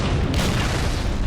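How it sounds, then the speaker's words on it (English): Grenade blast in Halo 3 combat, a loud deep continuous boom and rumble filling the whole moment, close and heavy, with no talk over it. "Grenade! Out!"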